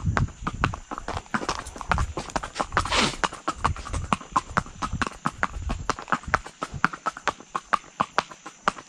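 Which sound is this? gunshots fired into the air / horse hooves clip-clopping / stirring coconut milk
horse hooves clip-clopping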